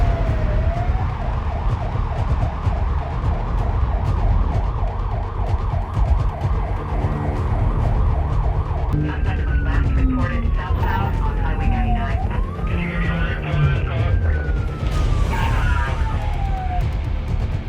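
Ambulance siren in the driving game BeamNG.Drive: a rapid warbling yelp cycling steadily, then shifting to slower wailing sweeps with overlapping tones, loud and continuous over a constant rumbling drone.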